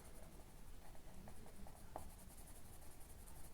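Colored pencil shading on the page of a coloring book, a soft continuous scratchy rubbing with steady strokes, faint and close, with no talking.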